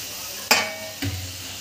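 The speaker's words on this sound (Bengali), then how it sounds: "এটা অল্প করে জল দিয়ে আমি এটা একসাথে দিয়ে দেবো" Marinade spice masala with a little water fries in a pan with a low, steady sizzle, broken by two quick scraping stirs of a utensil.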